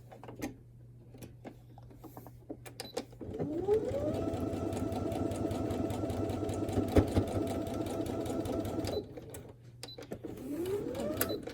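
Sewing machine stitching a quarter-inch seam on a postage stamp quilt block, whirring steadily for several seconds after a few clicks, with a short start-up whine again near the end, close and moderately loud.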